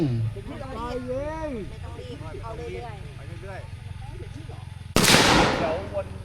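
Voices talk steadily at a shooting range, then a single loud gunshot cracks out near the end and its echo dies away.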